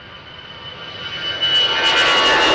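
A Ryanair airplane departing Schiphol runway 36L bound for Malaga, a steady jet roar heard from a distance that swells louder partway through as the aircraft climbs away.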